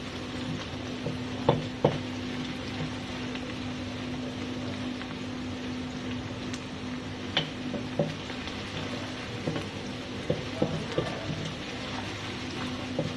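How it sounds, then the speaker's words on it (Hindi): Two chopped tomatoes sautéing in a pan for a ridge gourd and chana dal dish, a faint steady sizzle broken by occasional stirring clicks and scrapes, with no talking. "2 कटे हुए टमाटर डाल देंगे और थोड़ी देर के लिए इसको सौते करेंगे, थोड़ा सा भून लेंगे"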